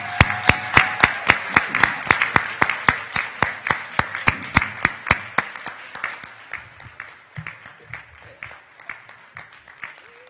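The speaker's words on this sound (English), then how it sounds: "let's have a round of applause for the second-year students" Sharp, evenly spaced claps from an audience ring out loudly at first for second-year medical students at a white coat ceremony, then continue as softer, scattered claps that thin out toward the end.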